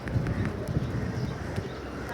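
A flock of loft pigeons drops out of the open sky and lands nearby, with quick fluttering wingbeats, soft clattering touchdowns and faint cooing over a busy outdoor background.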